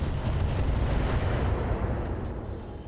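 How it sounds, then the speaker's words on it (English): Ammo explosion on a mech in the video game RogueTech, a broad roaring rumble that fills the moment steadily and fades slightly toward the end, with no voices over it. "We got an ammo explosion on it, but it's actually still alive, remarkably."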